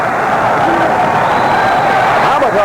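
Crowd in a boxing arena roaring for Oscar De La Hoya against Airat Khamatov, a steady wash of cheering heard under a commentator's voice.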